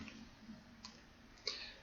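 Computer mouse clicks, a few sharp faint taps spaced apart over a quiet room hum.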